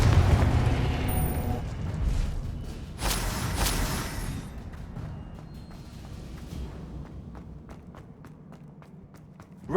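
Confringo blasting spell going off in Hogwarts Legacy, with a bright explosive burst around three to four seconds over rumbling game noise, then quieter rhythmic footstep-like taps trailing off.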